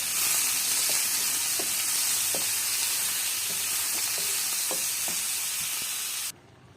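Meat sizzles steadily as it is sautéed and stirred in a hot pan for a mung bean stew, with a loud continuous frying hiss and soft intermittent clicks of a utensil, until the sound cuts off abruptly near the end.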